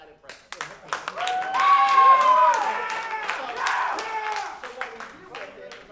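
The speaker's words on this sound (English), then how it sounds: "you can all applaud" A clinic audience at a percussion festival gives scattered, sparse clapping mixed with whoops and shouted cheers, rising and then trailing off over a few seconds.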